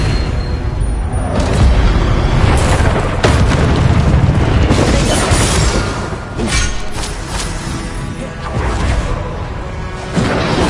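Spell blasts from Hogwarts Legacy boom one after another, loud deep explosions with whooshing bursts layered densely over several seconds, briefly easing before swelling again.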